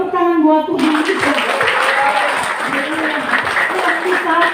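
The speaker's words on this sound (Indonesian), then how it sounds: "Tepuk tangan buat Tuhan kita." A church congregation at a Good Friday service breaks into clapping after a sung or spoken phrase, a loud, sustained burst of many hands with voices mixed in underneath.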